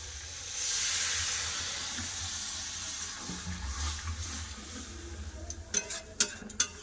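Water poured into a hot pan of spiced lentil and mixed vegetable curry with tomato, a loud sizzling hiss swelling at first then easing into bubbling, followed by a few sharp clinks near the end.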